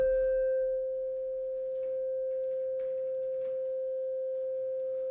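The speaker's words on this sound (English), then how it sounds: "we change the first oscillator from a sawtooth to a sine wave, like this." A synthesizer oscillator switched from sawtooth to sine wave, filter cutoff lowered, holds one pure, steady, sustained tone alone, with faint clicks underneath.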